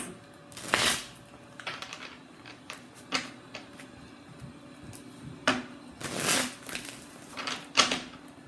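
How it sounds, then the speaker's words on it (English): Tarot cards being shuffled by hand nearby, with irregular bursts of riffling and soft slaps of the deck, quiet pauses between them. "Thank you for being patient as I shuffle these."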